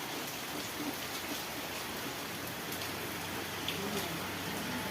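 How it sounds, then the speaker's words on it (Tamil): Heavy rain pours down in a steady, dense hiss with scattered drop impacts, unbroken from start to finish. "இன்றைக்கி எங்கள் ஊர்லாம் பயங்கர மழை"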